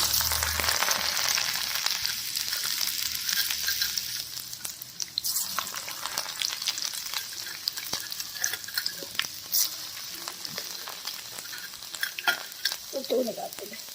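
Garlic sizzles and spits in hot oil for a dal tempering, a steady close crackle with scattered pops and stirring scrapes throughout, no voices.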